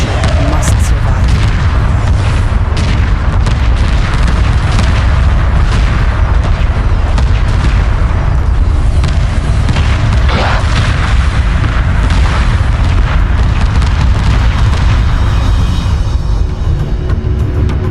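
A base erupts in a sustained barrage of heavy booms and rumbling blasts in the space strategy game Homeworld Remastered, dense and loud throughout with layered crackling debris.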